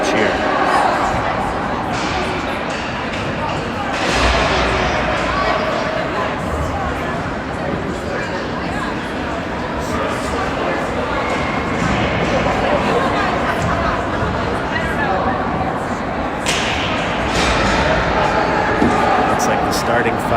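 A youth hockey team gathers at the end of warm-ups in an arena and shouts its team cheer, a burst of voices over crowd chatter and rink noise lasting the whole stretch.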